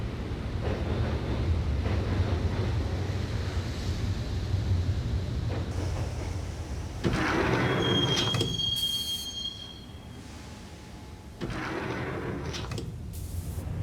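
Subway train ride in the video game Max Payne: a steady, loud rumble of rolling wheels and rattling cars, with metallic wheel squeals rising midway and again near the end.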